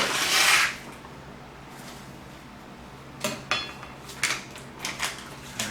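Reef aquarium salt mix is scooped out with a scooper, first as a burst of pouring granules, then as a series of sharp scrapes and knocks against a container.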